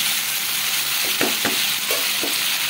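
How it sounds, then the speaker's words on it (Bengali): Raw green mangoes for a sour, spicy and sweet pickle fry in a pan with a steady close sizzle, while a utensil stirs them in a few brief scraping strokes. "আমগুলোকে আমি একটু ভেজে নেব"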